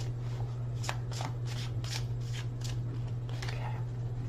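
Tarot cards from the Witch's Tarot deck being shuffled by hand: a quiet series of soft riffling bursts in an irregular rhythm, faint and close, over a steady low electrical hum.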